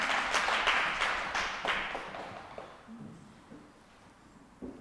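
An audience at a lecture gives a short round of applause, with several sharp claps up front that thin out and fade into scattered, quieter claps before a last lone clap.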